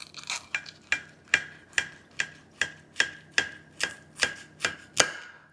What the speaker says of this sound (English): Oh, the topping is crispy.